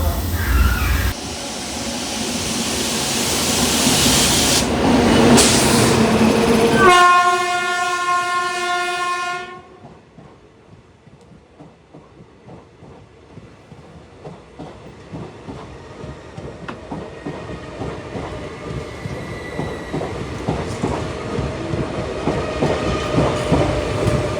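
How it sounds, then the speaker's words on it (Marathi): A train horn blasts loudly, then a passenger train rumbles past at a crossing on the Konkan route with rhythmic clickety-clack of wheels on rails, growing steadily toward the end. "फायनली समोरून ट्रेन येते जी क्रॉसिंगसाठी थांबवली होती आम्हाला"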